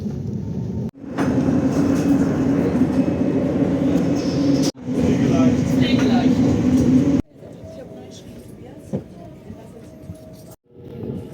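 Steady rumble and rattle of a moving Deutsche Bahn ICE intercity train heard from inside a carriage in Germany, with abrupt shifts in the noise level as the ride continues.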